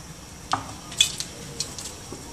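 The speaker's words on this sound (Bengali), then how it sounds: "আমি ফ্রাইপ্যানে তেল দেব" Mustard oil goes into a frying pan with soft sizzling and a few light metallic clinks and taps, close by and quiet, with no one speaking.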